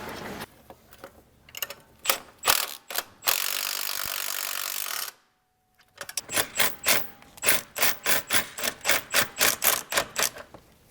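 Ratchet tightening a tie rod nut on a 2010-2013 BMW 135i with the N55 engine during oil pan work: close, rapid clicking bursts in repeated strokes, a steady rasping stretch, a brief pause, then a fast run of even clicks.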